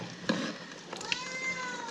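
A pet cat meows to be let outside in a home kitchen, giving a couple of short, faint mews with quiet room noise between them.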